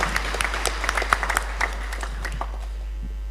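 An audience at a university event applauds, scattered sharp claps rising in bursts over a low steady hum, thinning out and fading toward the end, with no voices heard.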